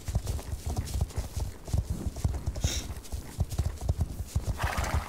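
Horse hooves clip-clop in a steady, quick rhythm in the online riding game Star Stable Online, close and clear, with a neigh partway through and no speech.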